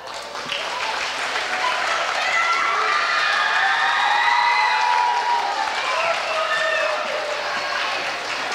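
A school-concert audience gives steady, sustained applause for the Hilo Intermediate School Concert Band, with a dense wash of clapping filling the hall and a few cheers and shouts mixed in.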